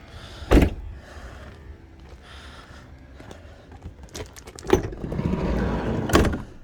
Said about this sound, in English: It does have the power side doors.